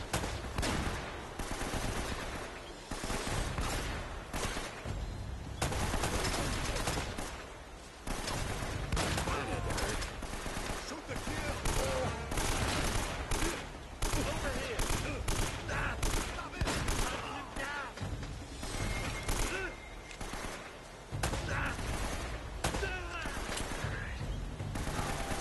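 Rapid automatic gunfire rattles through combat in the action video game Uncharted: Drake's Fortune, with dense overlapping bursts and volleys sustained loudly throughout amid busy game sound.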